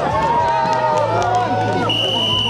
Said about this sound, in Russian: Аплодисменты Василию Бардышенко